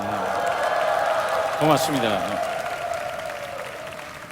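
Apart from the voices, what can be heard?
audience applause and cheering at a prayer meeting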